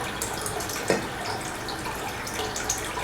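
Water runs steadily from a tap into a container during home canning, a continuous hissing flow with a small clunk partway through.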